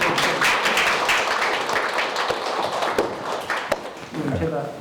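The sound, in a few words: audience applause for lecture guests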